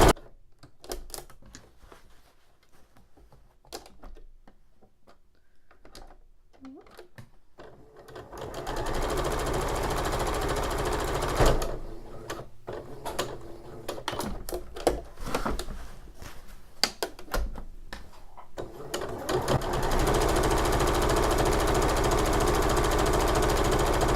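Sewing machine stitching pillow seams, with short bursts of needle chatter at first, then long, steady, loud runs of rapid stitching broken by brief pauses.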